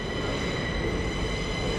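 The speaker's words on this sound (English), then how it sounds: "here's our Nova 1 on its incoming working from Liverpool Lime Street." A TransPennine Express Nova 1 train arrives at Newcastle station on its incoming working from Liverpool Lime Street. It gives a loud, steady rumble of wheels and motors close by, with no voices.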